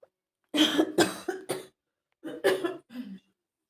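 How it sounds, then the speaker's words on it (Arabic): Two bursts of coughing, several harsh coughs in quick succession, then a short pause and two or three more, close and fairly loud. "جالي كحه فجاه"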